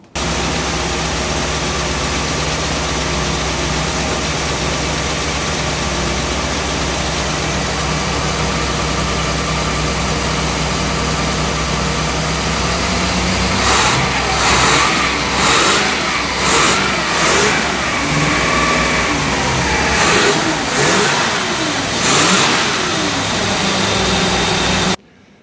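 The twin engines of a Bertram 28 boat kept on a lift run at a steady, loud idle, then rev up in several rising surges toward the end before cutting off.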